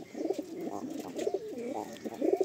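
A pair of Fulsira Madrasi pigeons, female in front and male behind, coos in repeated rolling phrases, close and clear, with a few soft chirps between calls.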